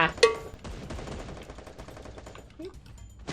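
Rapid bursts of gunfire in the video game Free Fire, crackling shots clustered near the start and then continuing as a steady rattle of lighter, more distant fire.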